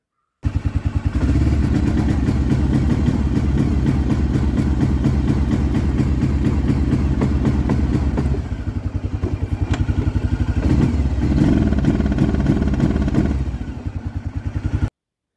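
An Arctic Cat Bearcat 454 snowmobile runs poorly down a road, its engine droning loud and close with a rapid rough pulsing, stumbling and briefly dropping off in places as if hitting a low rev limiter.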